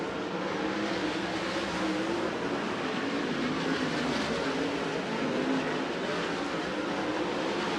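360 winged sprint cars race on a California dirt track during a main event, their engines blending into a steady, distant, wide-band roar with no distinct passes standing out.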